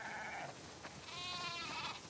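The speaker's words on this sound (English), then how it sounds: "We definitely have way too many sheep." Sheep in The Last of Us Part II bleat in a quick series of wavering, nasal cries that rise over a steady farmyard ambience, fairly close and clear with no talking.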